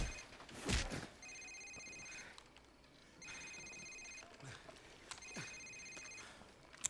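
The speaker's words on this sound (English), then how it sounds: "Someone gonna answer that? It's his cell phone." Cell phone ringing in the video game Modern Warfare (2007), three separate electronic ring bursts each about a second long with gaps between them, fairly quiet, plus a few thumps and some faint background voice.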